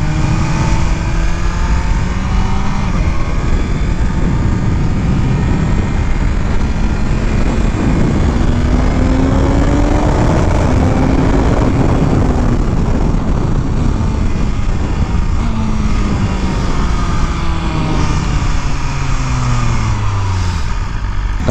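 A sport motorcycle in race mode is ridden hard, its engine roaring continuously and loudly with repeated rising and falling pitch sweeps as it accelerates and shifts, heavy wind rush filling the sound.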